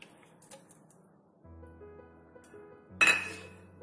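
Ice cubes dropped into a blender jar with milk for an Oreo milkshake give a sharp, loud clinking burst near the end, preceded by faint scattered clinks and a low hum.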